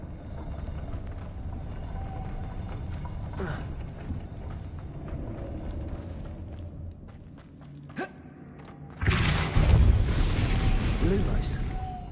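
A spinning mechanism in a Harry Potter video game turns with a low mechanical rumble and scattered clicks, then swells into a louder grinding rush near the end as a platform rises.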